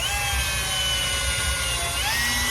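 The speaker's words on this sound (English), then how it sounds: "until I drilled some holes into the rubber." Power drill boring holes into the rubber of a lower control arm bushing: a loud, steady high whine with a low rumble underneath, close and continuous, the pitch shifting slightly near the end.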